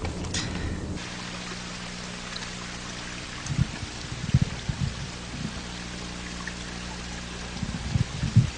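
A small mountain stream washes soil and pebbles downhill, giving a steady trickling rush of flowing water with occasional louder splashes, alone and moderately close.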